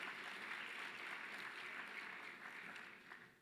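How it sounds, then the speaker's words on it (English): A hall audience at the Basic Education Sector Lekgotla 2023 applauds MEC Fraser: a steady, fairly faint wash of clapping that holds for a few seconds, then slowly tapers off, with no voices over it. "Let's give MEC a big hand of applause"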